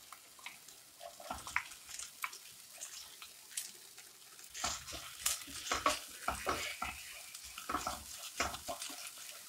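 Precooked prawns tipped into a frying pan with fennel seeds and stirred, giving soft sizzling under repeated scraping and clattering stirs that grow busier midway, close by with no speech.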